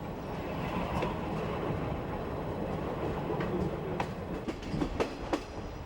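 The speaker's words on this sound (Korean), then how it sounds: "이른 아침, 기차는 튀니지의 수도 튀니스를 떠나 가베스로 향합니다." A passenger train runs on rails in Tunisia, heading from Tunis toward Gabès, with a steady, close rumble of the carriages and rhythmic clickety-clack wheel beats that sharpen into distinct clicks near the end.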